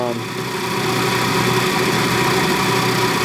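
The motor of a Bedini free energy generator runs with a steady mechanical hum and faint rhythmic pulsing, close and continuous throughout.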